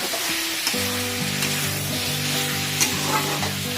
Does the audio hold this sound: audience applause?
no